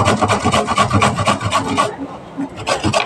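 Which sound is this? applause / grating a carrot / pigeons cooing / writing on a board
grating a carrot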